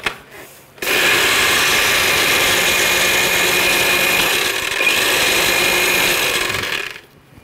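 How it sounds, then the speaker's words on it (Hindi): A kitchen grinder chops bread slices into crumbs, the bread added a little at a time; a loud, steady whirring motor runs for about six seconds, starting abruptly and cutting off near the end, with no talk. "थोड़ा थोड़ा करके डालेंगे और ग्राइंड करेंगे"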